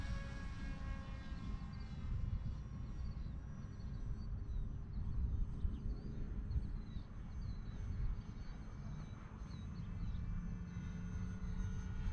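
Electric model airplane with a 2826 brushless motor and propeller in flight, a steady, fairly faint buzzing drone that holds through the whole stretch without talk.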